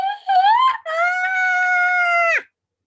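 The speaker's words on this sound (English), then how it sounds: "if you want to have a good scream, give it a go" A person screams during a vocal warm-up: a short rising cry, a brief break, then a long sustained, steady scream of about a second and a half that drops off sharply at the end. The voice is loud and close, with no other sounds.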